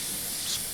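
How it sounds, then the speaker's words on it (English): An airbrush sprays paint in a steady, soft hiss during line-control practice, close and fairly quiet, with a brief swell near the end. "Here I'm doing an exercise which just gets you used to the flow of the airbrush."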